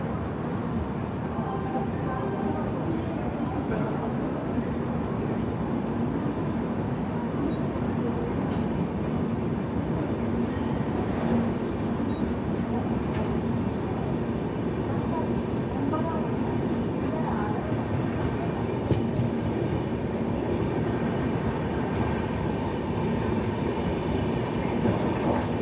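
Kerala Sampark Kranti express train departing Kozhikode station, a continuous loud rumble with steady clickety-clack of wheels over rail joints heard from on board, voices faintly mixed in.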